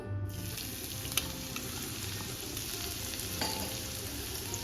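Finely chopped green garlic goes into two to three spoons of hot oil in a kadai on a gas stove, frying with a steady close sizzle and a few small clinks and stirring scrapes.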